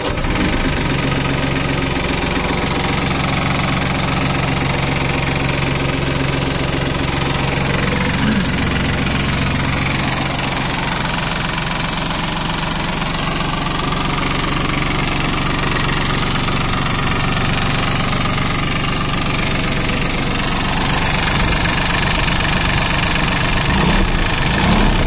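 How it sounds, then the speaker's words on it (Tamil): A diesel mini tractor engine idles steadily and loudly up close, a continuous low knocking rumble with mechanical vibration and no talking. "இந்த டிராக்டர் வந்து ஸ்டார்ட் பண்ணுற சவுண்டு எப்படி இருக்குன்னு பாருங்கள்."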